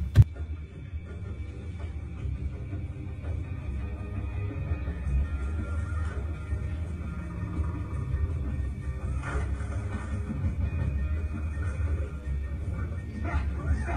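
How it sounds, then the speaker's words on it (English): Lion on a trail camera making low guttural rumbling sounds, with a man audible in the background; a sharp bump at the start, then steady low growling and noise throughout, moderately distant. "You can hear the guttural sound from the lion and the man in the background."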